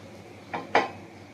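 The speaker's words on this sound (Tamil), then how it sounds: "கடாயை வச்சாச்சு." A metal kadai is set down on a stove in a kitchen, giving two quick clanks a moment apart, the second louder, close by against a quiet background.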